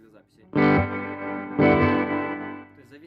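Electric guitar through a Fender Tone Master amp with spring reverb placed before the amp, two loud strummed chords ringing with a washy, effect-laden tail, clear and close.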